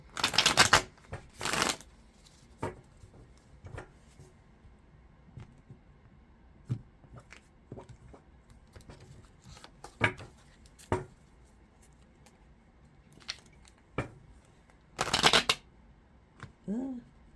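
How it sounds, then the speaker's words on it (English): A deck of tarot cards being shuffled by hand, with bursts of riffling at the start and near the end and scattered soft card taps and slides in between, close by and quiet. "Get these cards shuffled."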